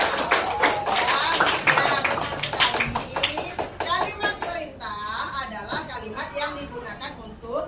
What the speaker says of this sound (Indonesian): Oke, beri tepuk tangan untuk Naila.